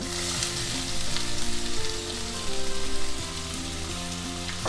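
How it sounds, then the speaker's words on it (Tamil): Chopped onions sauté in a hot pan for a Palak Moong Dal, giving a steady close sizzle with light stirring bursts and faint music-like tones underneath, no talking. "வெங்காயம் போட்டு நல்லா ஒரு 5 நிமிஷம் ப்ரௌன் ஆகிற வரைக்கும் நல்லா வதக்கிக்கலாம்"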